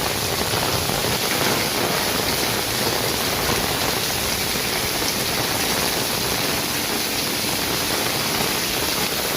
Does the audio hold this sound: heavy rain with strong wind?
yes